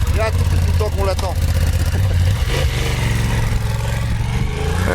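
A 2023 Honda Hornet motorcycle pulls away on an exam course, engine rumbling low and revving as it sets off, with a nearby voice talking over it.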